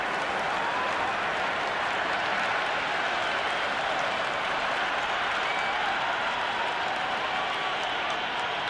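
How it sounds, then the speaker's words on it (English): Dense stadium crowd roaring and applauding continuously at a Big Bash T20 cricket match between Hobart Hurricanes and Melbourne Stars after a six, a loud, sustained wash of cheering with no pauses. "It's evident and ever so audible that the crowd is at near bursting point at today's play."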